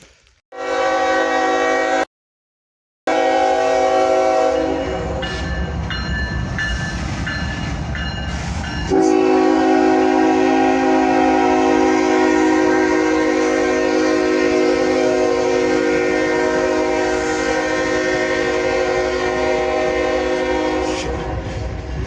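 A train rolls past a road crossing where cars wait, loud and close, its horn sounding in long sustained blasts over a steady rumble and rail clatter that runs on for about twenty seconds, with one brief gap; no voices.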